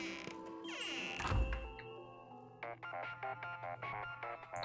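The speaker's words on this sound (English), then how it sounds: "Oh shit, I'm getting a phone call." In Luigi's Mansion 2 HD a phone starts ringing in-game: a thud and rising tones give way to a repeated electronic ring in short even bursts.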